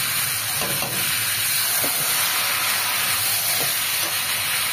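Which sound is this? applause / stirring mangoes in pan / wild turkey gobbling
stirring mangoes in pan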